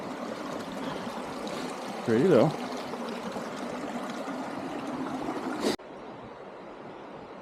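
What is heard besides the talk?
water flowing in a small mountain creek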